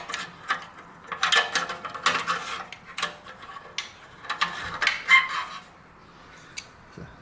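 Metallic clinks and ratcheting clicks come in scattered bursts as an exhaust clamp is removed from a Yamaha YZF-R motorcycle, with tool and part handling nearby and pauses between the sounds.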